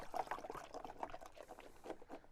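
Topsin M fungicide powder is stirred into water, giving soft liquid sloshing and gentle swirling splashes close by, fairly quiet and continuous, with no talking.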